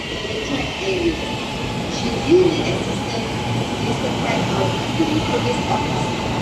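A Kuala Lumpur LRT train rumbles steadily close by, with faint wheel squeals rising briefly over the constant roar of the carriages.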